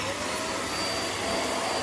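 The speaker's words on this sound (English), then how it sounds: "I've sprinkled some sawdust on carpet just to show you how easy this vacuum is to use." A Vax Mach Air upright vacuum cleaner runs on carpet sprinkled with sawdust, its loud, steady motor whine and airflow roar continuing unbroken at close range.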